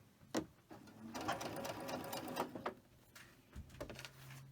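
A sewing machine chain-stitching pieces of fabric along a quarter-inch seam runs in one steady whirring stretch of rapid stitching, then gives a few short bursts. It is fairly quiet and close, with no talking.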